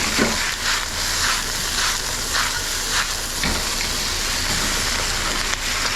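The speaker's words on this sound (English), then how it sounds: "I can start actually, stir frying" Broccoli sizzles and crackles in a hot pan, with periodic scraping and tossing sounds as it is stir-fried, close and steady with no talking.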